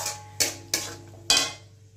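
A spoon scrapes and knocks against a pan three times while masala sautés for an egg dish, each stroke a sharp, close clink over a low steady hum.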